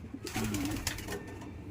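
A pigeon gives a soft, throaty coo close by, a short rolling call over faint background noise.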